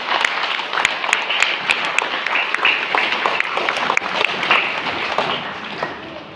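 An audience at a stage event for a meditation gathering in Malyala claps steadily, a dense, even wash of many hands with a few sharper individual claps standing out, continuing for several seconds before easing off slightly.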